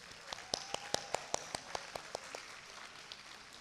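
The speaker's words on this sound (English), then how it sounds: "Give yourselves a big round of applause." At a university convocation, a quiet, regular run of claps sounds over a faint background wash, each sharp clap evenly spaced like a single pair of hands setting the rhythm before it trails off.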